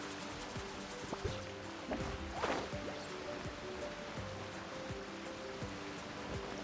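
Waterfall in the video game Genshin Impact: a continuous rushing water wash with a soft musical tone layered underneath, steady and moderate throughout, with no voice.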